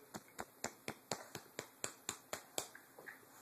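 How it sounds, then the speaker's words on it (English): A small child claps hands about a dozen times in a quick, steady rhythm, each clap sharp and close to the microphone, with no talking over them. "Clapping hands."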